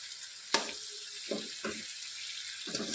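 Chicken skin frying in a pan as its oil renders out, a steady close hiss broken by a few sharp pops and spatters.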